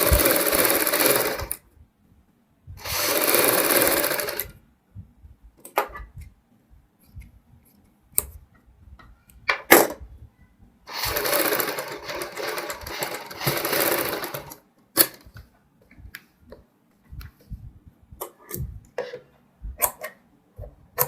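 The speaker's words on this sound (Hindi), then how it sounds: "यहाँ पे हम बुकरम के ऊपर सिलाई लगाएंगे।" A domestic sewing machine stitching through buckram and fabric for a kurti front neck runs in several bursts of fast, close whirring, separated by pauses with small clicks and handling noises of cloth and scissors.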